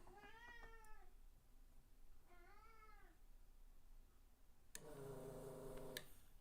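A house cat meows for dinner, two drawn-out pleading calls a couple of seconds apart, fairly close, followed by a short louder burst, in a quiet room with no talk.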